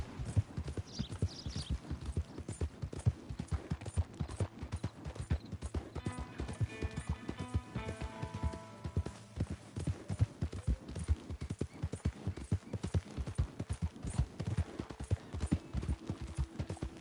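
Horse galloping in the hunting video game Hunting Simulator 2, a fast steady clip-clop of hooves throughout, with a brief snort near the start.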